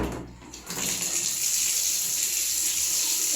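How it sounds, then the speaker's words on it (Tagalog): Tap water pours steadily into a basin for hand-washing clothes, a close, continuous splashing gush that swells after a brief start. "so magkukuha po ulit tayo ng tubig"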